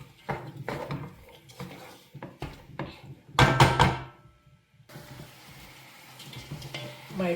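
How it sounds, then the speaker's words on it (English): Prawns frying in a pan for fish fried rice, heard as brisk clattering stirs and spoon scrapes against the pan. A louder burst of sizzle comes midway, then a softer steady frying hiss. "Add your prawns. Some all-purpose seasoning. Stir, stir, stir, and allow to fry for"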